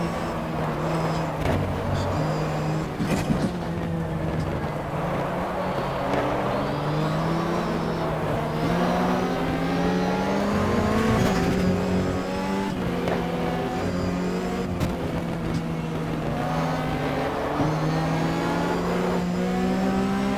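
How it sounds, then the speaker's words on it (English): Porsche race car engine in the racing game GTR 2, loud and close, revving and shifting through gears with rising and falling pitch and brief lifts between them. It runs continuously for about twenty seconds. "Porsche seems to get a little bit better traction out of the turns."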